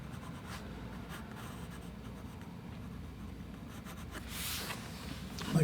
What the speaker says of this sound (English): So I'm using an office pencil here